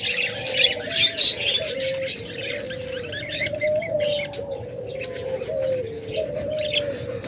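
A pair of rainbow pet birds chirps and trills continuously at close range, steady overlapping calls with no talking.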